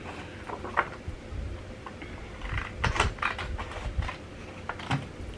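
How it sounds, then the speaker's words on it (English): Scissors cut material into strips for plant-climbing straps, a series of faint irregular snips and crisp clicks close by with quiet room noise. "I'm just gonna cut this in half and then cut it into strips"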